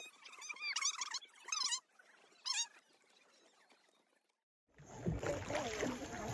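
On a boat ride across Lugu Lake in Yunnan, China, people talk briefly, then a steady rushing roar of the boat moving over the water takes over, loud and close.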